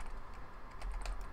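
Computer keyboard typing during Windows Vista Build 5384 setup in VirtualBox, a quick run of soft clicking keystrokes, close but faint, with no voices.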